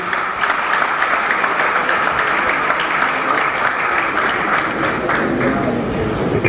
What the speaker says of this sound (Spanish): por favor, el aplauso para el doctor Resendiz.